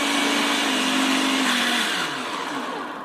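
A blender motor whirs loudly and steadily, its pitch shifting partway through as it runs at a higher speed, then winds down slightly toward the end.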